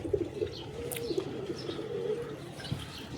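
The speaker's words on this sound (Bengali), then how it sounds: "তো এই হলো কবুতর জোড়া" A pair of Teddy flying pigeons coo repeatedly in a low, steady murmur, close by, with faint chirps above and no talk.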